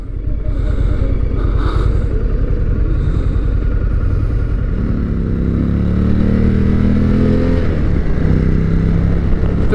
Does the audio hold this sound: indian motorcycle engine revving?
yes